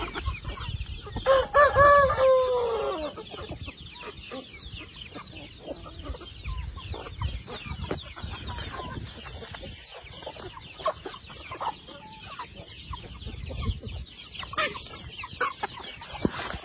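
A rooster crows loudly near the start, followed by scattered clucking from a flock of chickens on a farm over faint background noise.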